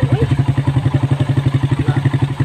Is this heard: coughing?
no